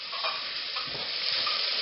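Onions fry in a pan with a dense, even sizzle that carries on steadily and fairly loudly throughout, with no voices over it.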